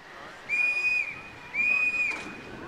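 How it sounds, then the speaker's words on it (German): Two long, loud, shrill railway signal whistle blasts on a narrow-gauge heritage line, each about half a second, separated by a short pause. "Herkommen wird mit zwei etwas längeren Pfiffen"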